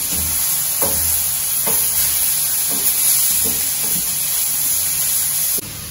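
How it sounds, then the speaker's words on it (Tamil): Carrots sauté in a hot pan with a constant sizzle and hiss, broken by a steady rhythm of soft stirring scrapes about once a second, all close and with no voices. "இப்போ இந்த கேரட்டை கொஞ்சம் வதங்கிட்டு தீயை குறைச்சி வச்சுட்டு வேக வச்சுருக்கேன் பாருங்கள்"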